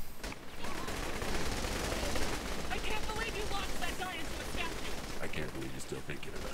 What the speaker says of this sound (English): Can we just start shooting stuff?